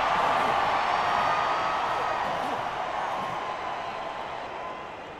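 A stadium crowd roars and cheers in the Rugby Challenge 4 video game during a Stormers versus Bulls match, a broad sustained wash of noise that slowly fades, with commentary over it.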